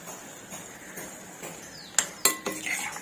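Cooked ridge gourd vegetable with chana dal being served onto a plate, soft scraping of a spoon followed by a few sharp clinks of metal against the dish, quiet and close.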